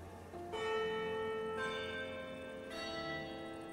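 Several bell tones ring out one after another in the survival horror game Connection: The Nightmare Within. Three clear struck notes sound at slow, uneven intervals, and each decays with a long sustained ring. No one speaks over them.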